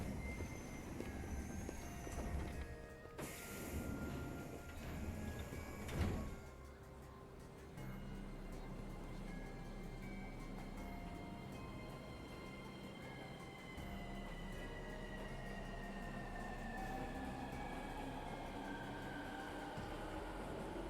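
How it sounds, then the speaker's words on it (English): A train in the video game 13 Sentinels: Aegis Rim rumbles past with a low grinding roar, a sharp screeching burst early on and long metallic squealing tones drifting and bending as it moves through. "That train sounds horrifying."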